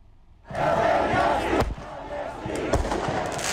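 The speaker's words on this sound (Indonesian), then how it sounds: "Sekelompok demonstran pro-Palestina menembakkan kembang api ke arah kedutaan besar Israel." Pro-Palestine protesters fire fireworks toward the Israeli embassy in Athens, a loud, sustained roar of crowd noise and crackling bursts with a few sharp bangs standing out partway through.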